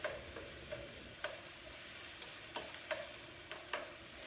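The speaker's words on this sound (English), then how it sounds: "we're sauteing all of these. Over high, medium, high, high." Vegetables saute in a pan over high heat, a steady close sizzle with light scraping of a utensil stirring at irregular intervals, no voices.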